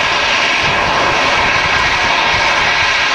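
A jet airliner at Manchester Airport roars loud and close in a steady, broad rush of engine noise that holds without break for the whole moment.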